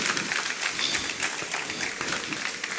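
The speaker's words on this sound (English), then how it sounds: "Let's keep clapping till they come and have their seats" Audience at a health and food conference applauding steadily as guests walk to their seats, a dense, even wash of clapping lasting throughout.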